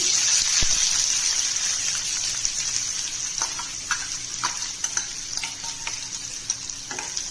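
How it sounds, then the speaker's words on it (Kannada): Onions frying in oil with mustard seeds and curry leaves, a bright close sizzle with intermittent clicks and scrapes of stirring, no talking. "ಸಾಸಿವೆ ಕರಿಬೇವು ಹಾಕಿದ ಮೇಲೆ ಈರುಳ್ಳಿ ಹಾಕ್ತೀನಿ."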